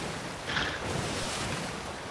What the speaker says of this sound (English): The waves are killing the speed and the angle.